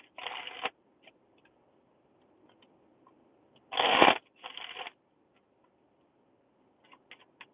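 A deck of tarot cards is shuffled in several short riffling bursts, close and crisp, separated by near-silent pauses with a few light taps.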